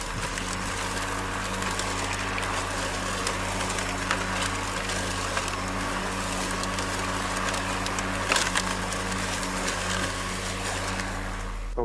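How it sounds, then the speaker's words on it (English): A Greenworks 80V 25-inch dual-blade self-propelled battery lawn mower cuts through thick grass on side discharge, giving a steady, loud electric motor and blade whir with grass and debris rattling throughout, with no talking. "I'm going to mow this area"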